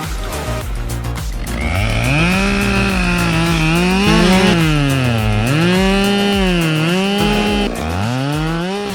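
Husqvarna chainsaw cutting a giant tree limb, engine revving up loud and close with its pitch rising and falling repeatedly as the chain bites, then dropping off near the end.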